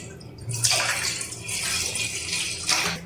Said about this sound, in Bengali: এবার এই গামলার মধ্যে আমি কিছুটা ঠান্ডা জল ঢেলে দিচ্ছি